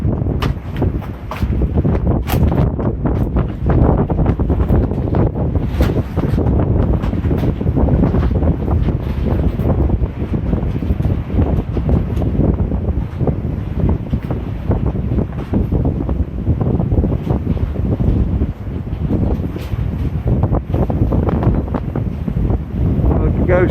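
Gusty wind buffets the microphone continuously while walking up a quiet back road in Benidorm, a loud low rumble with constant flutter and no voices.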